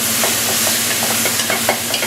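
Beef browning in a deep heavy pan, a loud, close, continuous sizzle with faint stirring ticks running throughout, no speech.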